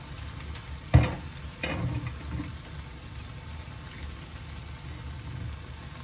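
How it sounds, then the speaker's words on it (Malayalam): Avial simmering in a freshly opened pot, a soft continuous bubbling and sizzle with a sharp clatter near the start and a few quieter knocks after, otherwise a steady low boil. "കണ്ടോ, ഇതിൻ്റെ സൈഡിൽ കൂടി ഇങ്ങനെ തലതലാന്ന് തിളച്ച് വരുന്നുണ്ട്"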